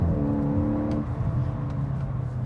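A 2024 Volkswagen GTI driven briskly, its engine holding a steady, close droning note with a shift in pitch partway through, loud and continuous with no talking.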